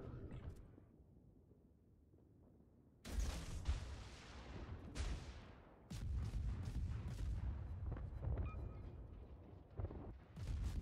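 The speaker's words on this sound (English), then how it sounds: "I might as well just start firing away at him" Heavy tank cannon fire in World of Tanks, a quiet stretch that breaks into loud booming blasts with rumbling after each shot.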